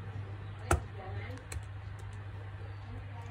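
A magic keyboard connected to a Xiaomi Pad 5 tablet gives a few sparse, quiet key clicks, with one sharper tap near the start, over a steady low hum in a quiet room.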